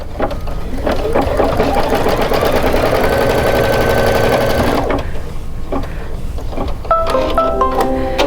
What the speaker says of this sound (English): it's going to run another stitch line